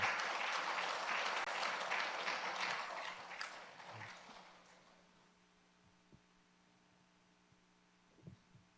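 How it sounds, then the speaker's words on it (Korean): A crowd claps loudly for a few seconds at a church pastor ordination ceremony, then the applause fades away into a quiet room hum with a few soft knocks. "큰 박수를 해주시길 바랍니다"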